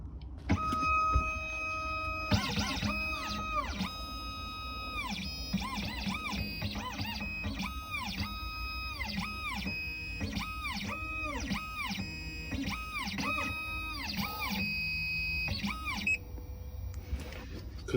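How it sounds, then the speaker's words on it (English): A Dolphin XP-005 key cutting machine cuts a 1992-2002 Toyota Camry key, giving off a steady hum with repeated high electronic whines that start and stop in a stuttering pattern, close and moderately loud. "Then we're gonna go to cutting key."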